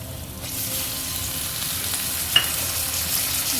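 Two chopped tomatoes sizzle in oil with the frying kalegura leafy greens curry, a constant close hiss broken by one sharp clink of stirring.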